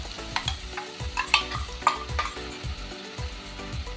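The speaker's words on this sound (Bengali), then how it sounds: "এবার দিয়ে দেবো এই মশলা গোলাটা" A spice paste mixture is added to fried onion and garlic paste for a prawn and potato curry, then fries with a lively sizzle and is stirred in quick, rhythmic scraping strokes, close up and without voices.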